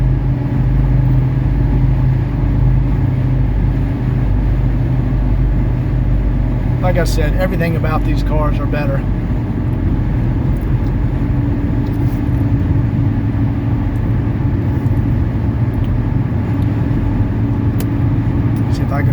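Steady low engine rumble of a 1979 Mercedes 300SD diesel sedan driving on the road, heard from inside the cabin with someone talking over it throughout.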